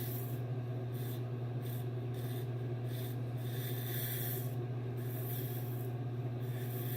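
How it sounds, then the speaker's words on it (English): A razor scrapes a wet, lathered head in close, soft rasping strokes, repeated in short bursts over a steady low background hum. "Wet the razor, go back over it lightly,"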